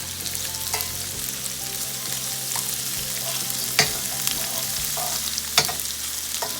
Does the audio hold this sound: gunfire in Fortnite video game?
no